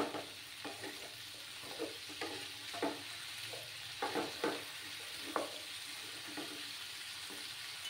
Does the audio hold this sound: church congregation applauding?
no